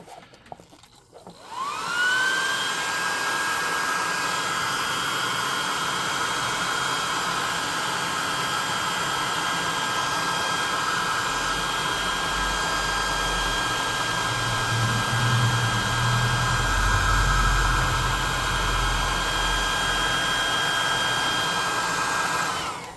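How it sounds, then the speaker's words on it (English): A hot air gun blows continuously to dry a sculpted Androsphinx tabletop miniature, starting up with a rising whine and then holding a loud, steady roaring hiss, with the airflow briefly muffling and deepening partway through. "So let's get that hot air gun"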